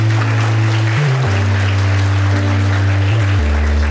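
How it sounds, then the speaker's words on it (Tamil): Applause from an audience at an award ceremony runs steadily throughout, with a loud sustained tonal drone from music or feedback over the clapping. "உங்களுடைய பலத்த கரகோஷம் பரிசாகிறது"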